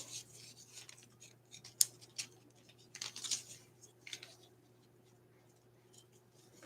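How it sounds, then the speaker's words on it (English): Scissors snip diagonally through ribbon while making a candy apple bow, giving a few quiet crisp cuts and light rubbing handling sounds close up, with no talk. "you're going to take your scissors and you're going to cut right up diagonal"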